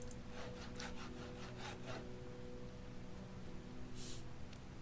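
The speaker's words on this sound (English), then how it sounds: "we're just going to be sawing up some logs later today. So we'll just saw these two." Logs being sawn into planks in the Project Zomboid video game give a series of short rasping saw strokes over a steady hiss, with one faint, brief scrape near the end.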